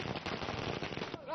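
Firecrackers set off by BJP workers at a celebration in Panwada Tihara, a dense, continuous crackle of rapid pops and bursts, loud and close, with voices mixed into the din.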